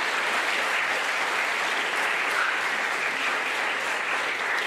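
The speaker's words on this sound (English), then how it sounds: "just give that one more round of applause as a group" An audience at a school closing ceremony claps steadily and densely throughout, a sustained wash of applause with no voices standing out.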